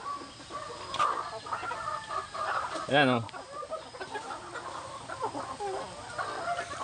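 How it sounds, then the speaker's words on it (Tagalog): Several hens cluck and squawk nearby in a busy yard, with one louder call midway, while someone speaks briefly. "ang aking mga alagang inahin"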